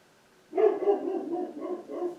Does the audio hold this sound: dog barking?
yes